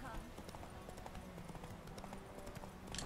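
Horse hooves clip-clop rapidly in a galloping rhythm in The Witcher 3 video game, steady and fairly faint throughout, with someone talking over them.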